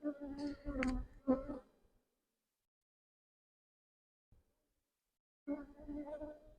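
Honeybees hum in bursts close by at an open hive, a dense buzzing that cuts off into silence for a few seconds before swelling again.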